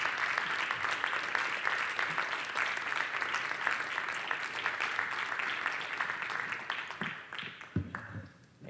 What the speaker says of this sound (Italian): Facciamo anche un altro applauso.